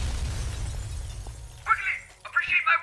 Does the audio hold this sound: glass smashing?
yes